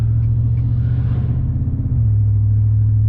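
A vehicle engine fitted with a range AFM DFM disabler idling close by, a loud steady low rumble that dips briefly and then settles back into an even drone.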